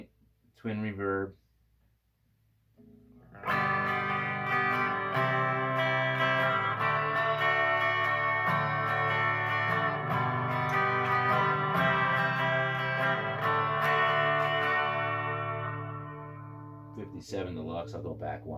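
An electric guitar played through a Fender Mustang amp on its Twin Reverb preset rings out in a sustained, clean strummed chord that slowly decays, with short plucked notes before and after.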